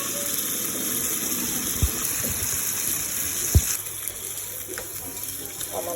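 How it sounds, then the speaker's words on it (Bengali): Water poured into a pot of braised chicken for a chicken pulao, a steady gushing pour with a low background hum and a couple of sharp knocks of utensil against pot. "এখন একটু পানি দিচ্ছি।"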